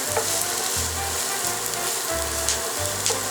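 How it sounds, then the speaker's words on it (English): Onions sautéing in a pan, a steady crackling sizzle with soft stirring scrapes and low thuds coming and going, close up with no talk. "our onions. Saute these until they're translucent."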